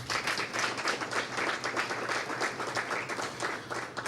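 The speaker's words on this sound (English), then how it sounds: "One more round of applause, please." Sustained audience applause at a Sunday gathering fills the space, a dense steady wash of many hands clapping at even loudness throughout, with no speech over it.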